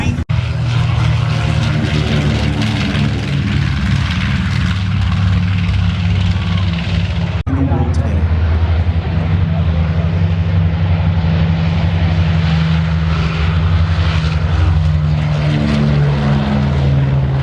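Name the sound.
Boeing B-29 bomber propeller engines at air show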